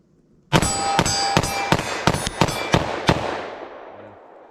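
.357 SIG pistol shots fired rapidly at a target: eight sharp, loud reports in quick succession over about three seconds, each ringing briefly before a fading echo.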